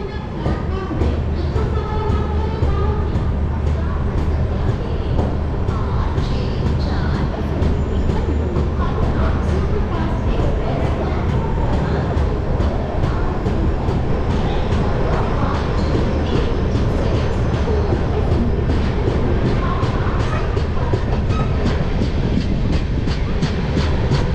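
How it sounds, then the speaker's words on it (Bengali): A passenger train from Puri to Kolkata pulls out of Cuttack station, a loud continuous rumble with rhythmic wheel clatter heard from inside, and faint voices at times. "আমাদের এই ট্রেন দাঁড়িয়ে রয়েছে কটক থেকে ছেড়ে দিল দশটা তেইশে"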